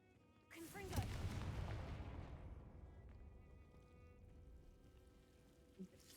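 A Confringo blasting spell cast in the Hogwarts Legacy video game: one sharp explosive burst followed by a long, low rumbling decay, with a small thud near the end.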